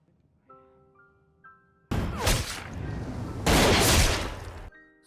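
Loud rifle fire in the action film Sniper 3: quiet music gives way to two long, harsh bursts of blast and crash noise, then the music returns.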